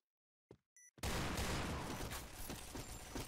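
After a brief silence and a short electronic chime, a loud burst of rapid Python revolver gunfire in a video game erupts and continues in sharp cracks.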